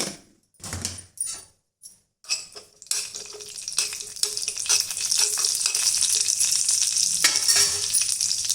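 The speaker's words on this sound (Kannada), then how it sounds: "ನಾನೀಗ ಬಂದು ಚಿಕ್ಕ ಬಾಣಲೆ ಇಟ್ಟು ಸ್ವಲ್ಪ ತುಪ್ಪ ಹಾಕ್ಕೊಳ್ತಾ ಇದ್ದೇನೆ ಹಾಗೆ ಒಂದು ಕಾಲು ಚಮಚ ಆಗುವಷ್ಟು ಜೀರಿಗೆ ಹಾಕ್ಕೊಳ್ತಾ ಇದ್ದೇನೆ" Cumin seeds hit hot ghee in a small pan, a few clicks and taps giving way after a couple of seconds to a loud, steady crackling sizzle that continues to the end.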